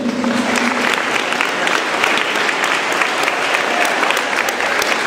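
Competition participants applaud themselves at the opening of a regional youth contest, a steady, dense clapping that fills the whole stretch with no speech over it.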